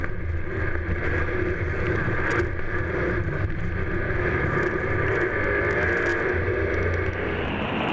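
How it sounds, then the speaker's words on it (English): Steady roar of racing powerboat engines revving, with wind buffeting the microphone, a continuous loud drone that rises and falls slightly throughout. "you could actually hear the engines revving"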